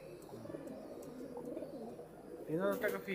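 Deshi bilat pigeons coo softly in a steady low murmur, rising briefly louder near the end, close by with faint background sounds.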